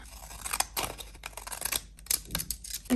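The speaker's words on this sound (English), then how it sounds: "let's do the scalloped edge one more time with my scissors." Scissors snipping a scalloped edge into paper for a craft embellishment, a close series of crisp, irregular cuts and paper rustles across the whole stretch, with no talking.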